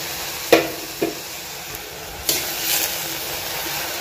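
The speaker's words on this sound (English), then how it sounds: "gonna just mix it up" Bread upma being stirred in a frying pan, with a few soft scraping taps of the spoon over a low steady sizzle, close and fairly quiet.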